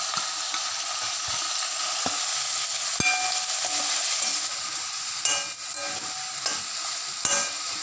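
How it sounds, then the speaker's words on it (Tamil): Turkey berries and tomatoes sizzle steadily in a hot pan, with occasional clinks and scrapes of a spoon stirring them. "சுண்டைக்காய் தக்காளி எல்லாம் நல்லா வதங்கிடுச்சு."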